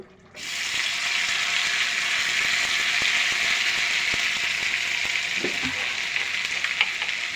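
Hot mustard oil frying on a tawa, with hot meat nearby, bursts into a loud, steady sizzle after a brief quiet start, with light scraping and clinking near the end.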